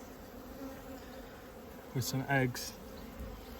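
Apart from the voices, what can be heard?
honeybees buzzing in a hive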